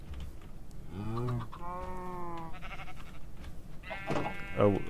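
Several sheep bleat in a video game in short wavering calls, one after another, over a low background hum, with a couple of higher bleats near the end.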